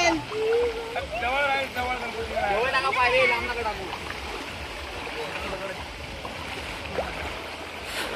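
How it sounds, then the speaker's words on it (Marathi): Rushing river water in Konkan flows loudly and steadily over stones, splashing throughout, during a Ganesh idol immersion procession, with a voice talking over it in the first half. "पाण्याचा प्रवाह खूप आहे आणि दगडी एवढ्या लागतायत की काय सांगू शकत नाही मी तुम्हाला"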